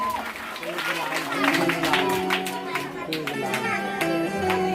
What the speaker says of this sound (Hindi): इनके लिए भी एक बार जोरदार तालियां